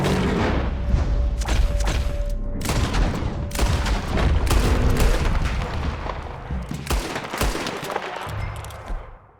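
Gunshots ring out at a bear in Red Dead Redemption 2, a rapid series of loud, close cracks in uneven clusters with booming echoes, over a steady rumble, easing off toward the end.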